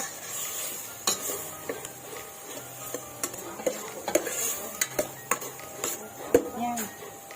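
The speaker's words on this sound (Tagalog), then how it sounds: "Lagay natin ang ating mushroom." Mushrooms tipped into a pan and stirred for chicken carbonara, a soft sizzle under a string of sharp metallic spoon clinks and scrapes against the pan, close and irregular.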